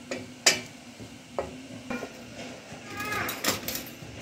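A spoon stirs and scrapes kachi flour as it toasts in a pan, with sharp clinks against the metal, soft scraping and a faint sizzle running underneath.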